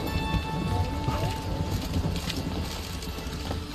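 Horse hooves clip-clop in The Witcher 3, a fairly quiet, uneven patter of footfalls under game ambience and a steady tone, with no clear approach.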